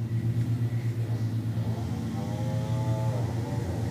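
A 2002 Sea-Doo GTX DI personal watercraft engine idles close by, a loud steady throbbing drone with a slight shift in pitch partway through.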